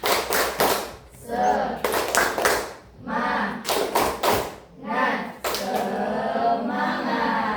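Bursts of rhythmic group clapping in quick patterned sets at a class session, loud and close, alternating with people talking.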